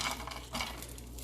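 Potatoes sizzling in a pot with onions and peppers for a veggie breakfast, a steady close hiss with light stirring and clinking of utensils against the pot, no talk over it.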